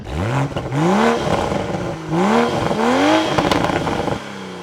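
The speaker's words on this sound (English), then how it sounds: "listen to that valved dual mode exhaust with the pops and burbles" A 2026 Toyota Supra Final Edition engine revs up in repeated rising bursts through its valved dual-mode exhaust, with crackling pops and burbles between the pulls, loud and close.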